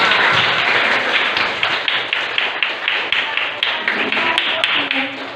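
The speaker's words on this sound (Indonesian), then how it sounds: "Oke, tepuk tangan kita semua." A classroom group of students bursts into applause, many hands clapping loudly and close at first, then thinning into a patter of separate claps that fade out over several seconds.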